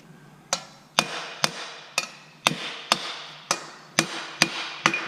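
A hammer strikes the head of a bolt threaded into a Nissan 370Z steering part during a Wisefab steering angle kit installation, ringing metallic blows repeated about ten times at a steady, roughly half-second rhythm, close and clear with no talk.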